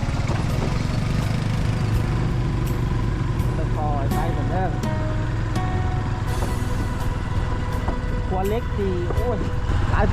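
A large truck rumbles by on a narrow single-lane road where a motorbike pulls aside to let it pass, its steady low engine drone running throughout under nearby conversation.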